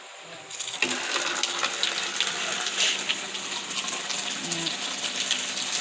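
Tap water suddenly gushes into a bucket after a short pause, a strong continuous splashing rush that stays loud and steady, with faint background sounds underneath.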